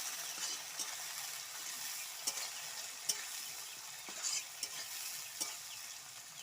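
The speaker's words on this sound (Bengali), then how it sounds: "তেলটা গরম হয়ে গেছে পেঁয়াজ কুচিগুলো দিয়ে দিচ্ছি পেঁয়াজটা ভেজে তুলে নেবো" Chopped onions frying in hot oil give a steady, dense sizzle with occasional sharper crackles and pops, close and continuous with no talking.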